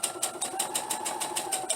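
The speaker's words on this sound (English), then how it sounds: "And now I'm sewing the front" A sewing machine runs a quick, even burst of needle strokes while stitching the front crotch seam of a garment, the ticking rhythm loud and close.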